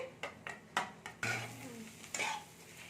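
Stirring egg in a pan over high flame: a spatula scrapes and taps against the metal several times in an irregular rhythm, then a steady low sizzle of frying continues beneath.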